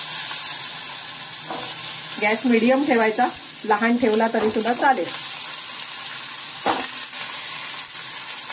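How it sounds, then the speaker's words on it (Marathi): Stuffed eggplants drop into hot spiced tempering oil with asafoetida and turmeric, a steady sizzle and frying hiss running throughout as someone talks over it. "ते झालं की आपण ही जी वांगी आहेत ही आपण फोडणीमध्ये घालायची."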